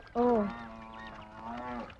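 A buffalo gives a single deep, drawn-out low lasting nearly two seconds, fairly near and steady in tone, over faint background noise, with no voices heard.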